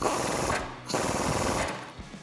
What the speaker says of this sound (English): Then we can take a 19mm socket and we can tighten that up.